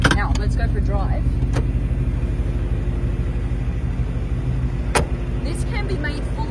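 A blast-proof armored Mercedes G-wagon drives with a steady, loud engine and road rumble, plus a few sharp clicks and knocks inside the cabin.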